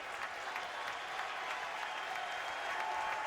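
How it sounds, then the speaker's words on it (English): A college baseball crowd at a Super Regional playoff game, Texas versus Houston, cheers and applauds steadily as fans rise to their feet, a loud, dense, continuous roar of clapping and shouting throughout. "Crowd coming to its feet."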